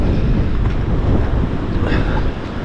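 Strong outdoor wind buffets the microphone with a loud, steady low rumble that lasts throughout, beside a leaking BMW R1150GS motorcycle, with no voices heard.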